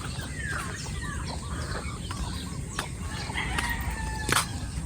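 Free-range chickens at a resort in San Juan, Batangas, with a rooster crowing several times at moderate distance among scattered clucks and outdoor ambience.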